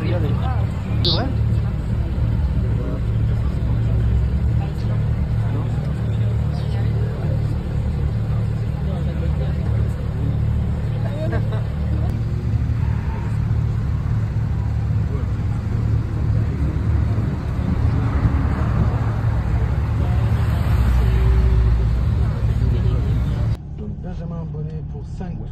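A Corvette C8 on the Alès racing circuit drones steadily as a sustained engine rumble heard from inside, with speech over it, ending in a sudden drop to a quieter interior.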